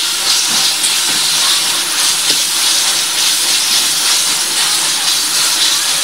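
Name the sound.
ground meat cooking in a pan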